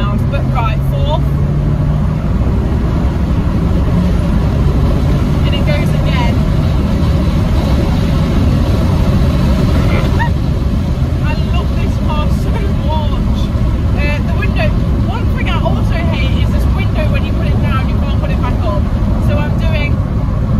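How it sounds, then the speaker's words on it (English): Audi TT accelerating through its gears on the road, a loud, steady engine drone heard from inside the cabin with brief pitch shifts between gears, while someone talks over it throughout. "my other favourite thing about this car is how well it pulls into gears"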